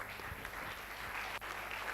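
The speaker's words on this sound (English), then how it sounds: "We can still continue the applause, please" Audience applause fills a medical laboratory science induction ceremony hall, a dense steady wash of many hands clapping at once, moderately loud and continuous without voices.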